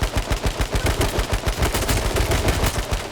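Rapid automatic gunfire in the battle royale video game H1Z1 King of the Kill, a fast, evenly spaced string of loud shots rattling on without pause.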